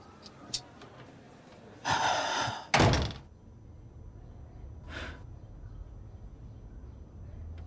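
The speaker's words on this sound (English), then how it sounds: "I gotta shut my door" A door being shut indoors: a short burst of rustling followed by a louder thump, with another brief knock a couple of seconds later against a quiet room tone.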